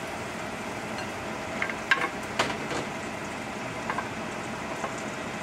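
Butter and shrimp sizzle in a pan while making shrimp salad, a steady moderate frying hiss with a few brief clicks and pops from stirring or utensils, no voices.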